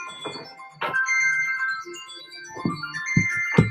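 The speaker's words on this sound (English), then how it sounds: "I don't know where that phone is ringing from." A phone ringtone goes off nearby, a melodic electronic tune repeating over a few seconds, fairly loud and clear with no talk over it.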